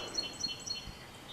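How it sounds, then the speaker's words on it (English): A red-headed woodpecker calls outdoors, giving three short, high chirps at an even pace. They sound fairly near but faint over a quiet background. "that noise you hear, the bird you hear all the time when I'm outside, is a red-headed woodpecker"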